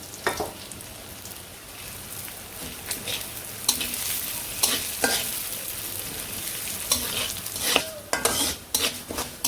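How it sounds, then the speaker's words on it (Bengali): Urad dal and cumin seeds sizzle as they fry in a pan. A ladle stirs and scrapes against the metal now and then, with a few sharper clinks near the end, and no one speaks. "ডালটা যে হালকা একটু লাল লাল করে ভেজে নিব"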